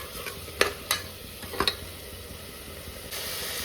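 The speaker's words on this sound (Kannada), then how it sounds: "ಚೆನ್ನಾಗಿ ಫ್ರೈ ಆಗಬೇಕು." Food frying in a pan while being stirred, a low sizzle broken by a few sharp clinks of a spoon against the vessel, then a brief swell of hissing at the end.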